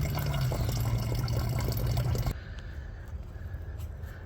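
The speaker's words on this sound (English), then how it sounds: "I'm just gonna let this gallon fill up" Water pours steadily into a gallon jug in a truck repair setting on a 2001 Ford F-250 Powerstroke diesel, a dense continuous splashing rush that cuts off abruptly halfway, leaving quieter faint dribbling and ambient noise.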